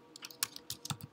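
A computer keyboard typing an @ mention into a Zoho Client Portal: about a second of quiet, quick keystroke clicks in an uneven rhythm, heard alone and close.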